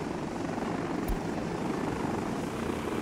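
Helicopter rotor in the city-building game Workers & Resources, a steady broadband whirring drone holding at even loudness throughout, with one brief thump partway through and no talking.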